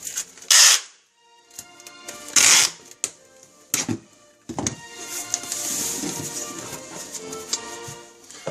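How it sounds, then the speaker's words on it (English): A tape gun seals a cardboard parcel box: loud ripping screeches of tape pulling off the roll, followed by rustling, pressing and a cutting snap, all close up with no talking. "We get our tape gun. Just put a little bit of pressure on the tape. Just tape it down. Cut it off."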